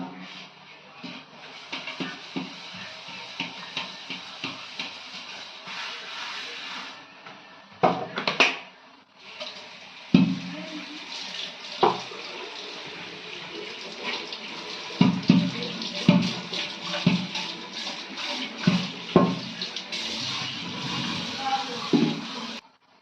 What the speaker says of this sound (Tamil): அப்புறம் மூளை நல்லா வாஷ் பண்ணி க்ளீன் பண்ணிட்டோம்